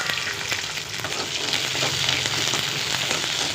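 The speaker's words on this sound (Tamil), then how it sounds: "நல்லெண்ணெய் நல்லா சூடானதும் நம்ம கட் பண்ணி வச்ச சுண்டைக்காயை சேர்த்து நல்லா வதக்கிக்கலாம்" Cut turkey berries hit hot sesame oil and sauté with a loud, dense, continuous sizzle and crackle, close up and unbroken throughout, with no talk.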